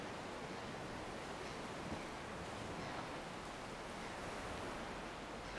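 Ocean waves wash steadily onto a beach where sea snails ride the incoming tide, a continuous broad surf roar with gentle swells and no voices.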